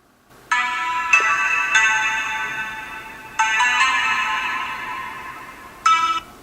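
A bright electronic melody of sustained synth tones plays through a small Android phone speaker, with short phrases starting and stopping, no voices.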